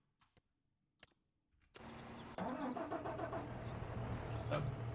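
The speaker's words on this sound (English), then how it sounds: "It's a big tractor and a big cultivator." A big tractor engine in Farming Simulator cranks and starts after a few clicks, then settles into a steady, loud idle rumble that runs to the end.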